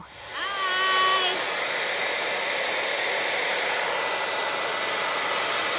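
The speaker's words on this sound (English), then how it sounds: "using a hair dryer to take stubborn stickers off" A hair dryer switches on with a brief rising whine and then blows steadily, a loud continuous airy roar close by.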